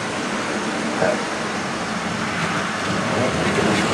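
Hornby Triang model train running into the sidings on a layout, giving a steady, continuous mechanical rumble and whir at moderate loudness for several seconds.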